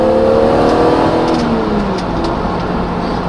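BMW Z3M Coupe engine, warmed up, revving hard through the gears up to about 5,000 rpm, a loud, continuous rising and falling engine note recorded close from inside the car.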